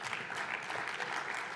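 Faint, brief applause from a conference audience at a packaging summit welcoming speakers, a soft continuous patter of clapping heard at a distance.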